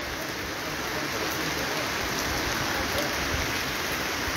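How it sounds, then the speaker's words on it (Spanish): Steady, dense rain falls continuously over the bay at San Juan del Sur, Nicaragua, a uniform hiss of drops on surfaces with no breaks or voices. "Continúa lloviendo en San Juan del Sur"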